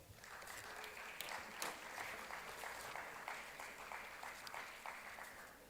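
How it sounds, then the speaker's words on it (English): An audience at the Y20 Summit in Varanasi claps throughout, a sustained, fairly even round of applause from a large crowd heard at a moderate distance, with no speech over it. "A huge round of applause for the G20 and Y20 secretariat"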